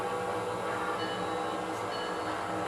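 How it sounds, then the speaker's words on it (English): Passenger train on a family model railroad, the Zenith Pacific, rolling into the station with a steady, dense rumble of wheels and running gear, faint and continuous. "bringing the Zenith Pacific passenger train back into the station to unload passengers and then load up for another trip"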